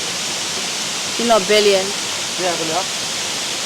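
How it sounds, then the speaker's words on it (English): A waterfall gives a steady, broad roar throughout, with a person speaking briefly over it. "what do you think of the waterfall"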